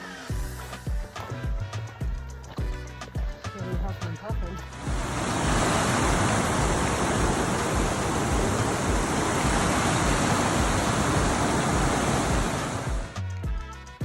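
A freezing cold, fast-rushing creek near Zapata Falls roars as a loud, steady broadband wash, preceded by a few seconds of clattering and footsteps before the water noise swells and holds.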